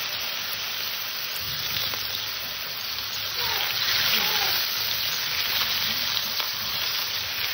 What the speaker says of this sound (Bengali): কাঁচকলা আলুটাকে আমি হালকা একটু ভেজে নেব